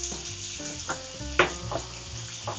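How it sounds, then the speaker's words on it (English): Pesto penne pasta sticking to the bottom of a non-stick pan sizzles steadily while being stirred, with repeated scraping and clacking strokes of the utensil punctuating the close frying hiss. "I gotta stir this up more, it's starting to stick to the bottom."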